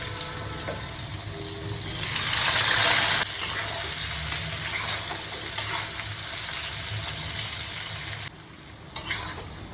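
Raw green banana and potato fry in hot oil tempered with black cumin, giving a continuous sizzle that surges briefly and is broken by a few clinks and scrapes of stirring in the pan.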